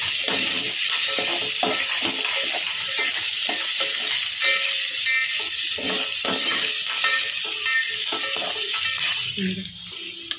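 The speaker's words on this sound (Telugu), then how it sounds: "కలుపుకుందామండి." Mushroom curry seasoned with salt and turmeric is stirred in a hot pan, producing a continuous sizzle with repeated scraping and clinking strokes at an uneven rhythm.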